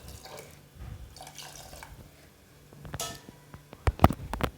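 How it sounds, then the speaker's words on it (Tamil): Water poured into a pot of mutton bones for soup in a home kitchen, a splashing, trickling pour with a few sharp clinks near the end, heard close up with no talk. "தேவையான அளவு தண்ணி சேர்த்துட்டு"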